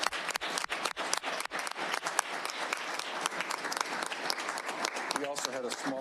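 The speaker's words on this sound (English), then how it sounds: "let's please give them a round of applause" An audience at a public school board meeting applauds steadily in a room, with sharp individual claps standing out and brief voices near the end.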